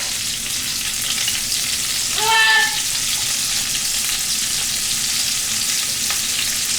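Onions frying in a pan with potato and cabbage, a steady close hiss and crackle of sizzling oil, broken by a brief stirring scrape partway through.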